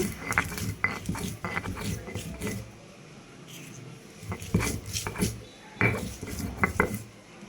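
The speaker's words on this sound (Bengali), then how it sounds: "শিলপাটা ছাড়া আমি প্রথমে মরিচগুলাকে বেটে নিয়ে এসছি বেটে নিচ্ছি" Chilies are mashed by hand without a grinding stone in a home kitchen, giving close, irregular clattering knocks and scrapes in short bursts with brief pauses and no talking.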